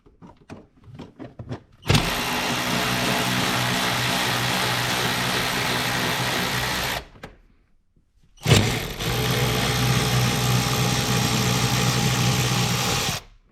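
A power tool whirs continuously for about five seconds, stops, then runs again for another five seconds while unscrewing a seat in a 2023 BMW M5 Competition, loud and close, with faint clicks before it starts.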